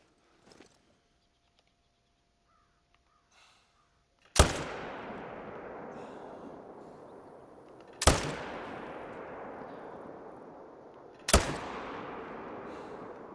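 Three loud hunting rifle shots ring out at steady intervals while hunting bears in theHunter: Call of the Wild, each sharp crack followed by a long rolling echo that fades slowly, with near silence before the first.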